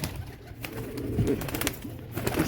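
Pigeons being released for flight, with steady cooing and soft wing flutters close by in an outdoor loft, and no one speaking.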